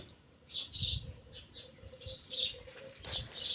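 A bird calls in a village setting with short, high chirps in repeated bursts, about six or seven over a few seconds, moderately near against quiet outdoor background.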